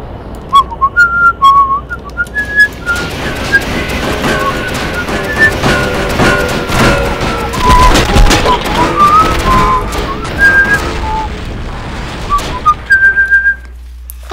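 Whistling falling bombs rain down during a bombing run in the video game Cortex Command, with repeated descending whistles over a dense bed of thuds and blasts, loud and continuous.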